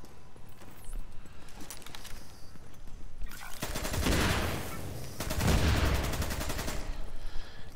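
Weapon and turret gunfire in The Division 2, with rapid automatic bursts starting around the middle and swelling into loud, dense volleys, close and harsh, after quieter scattered sounds.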